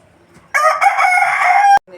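A rooster crows once, a single loud, close call lasting just over a second after a quiet start, ending abruptly with a faint rustle.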